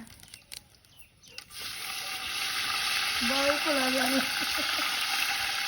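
Fresh home-grown curry leaves dropped into hot oil over a wood-fired stove for chicken biryani, bursting into a loud, steady sizzle after a quiet start, with a bird chirping faintly in the background.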